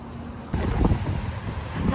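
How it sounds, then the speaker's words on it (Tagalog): Strong gusting wind buffets the microphone outdoors near a bus stop, a loud, steady broadband roar that begins abruptly and continues without talk. "Lakas ng hangin dito,"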